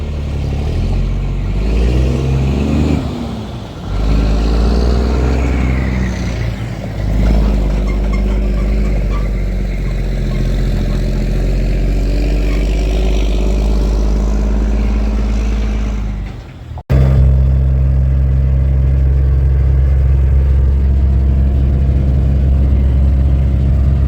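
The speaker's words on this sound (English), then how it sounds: "We got dump truck warming up." A dump truck's diesel engine idles while warming up, with a pintle hitch trailer hooked on. It gives a loud, close, deep rumble that holds steady, dips briefly, then settles into an even idle.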